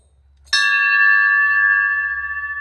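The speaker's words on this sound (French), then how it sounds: "Ça vaut peut-être un coup de cloche, tout ça." A single bell is struck once at a bronze lost-wax foundry, a sharp strike followed by a clear sustained ring with steady harmonic tones that decays slowly, loud and alone.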